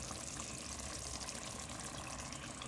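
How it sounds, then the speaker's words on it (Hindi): Water poured into freshly ground homemade korma masala in a pan for a karahi-style beef korma, a steady close splashing trickle lasting a few seconds with no talk. "थोड़ा सा पानी डाल रही हूँ इसमें।"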